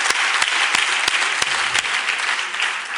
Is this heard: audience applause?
yes